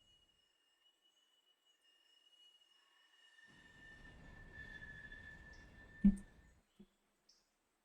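A model or toy train runs along its track, a rising faint rumble with a thin whine above, then a sharp click and a few light taps as it stops.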